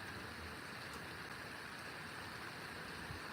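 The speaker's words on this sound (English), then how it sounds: "Rain is definitely starting to pick up." Steady rain falling as a storm approaches, a dense, even hiss spread across the whole clip, with no talk.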